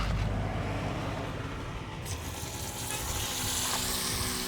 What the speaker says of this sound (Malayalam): അടുത്ത നമ്മൾ മീൻ വറുക്കാൻ പോവല്ലേ. നമ്മൾ എണ്ണ ഒഴിച്ചു, ഓയിൽ ഒഴിച്ചു